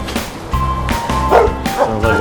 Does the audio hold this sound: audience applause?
no